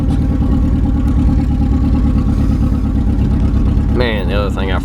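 A Datsun B210 car engine runs steadily at close range as the car is eased into position, a loud continuous mid-pitched drone with a brief higher-pitched whine near the end.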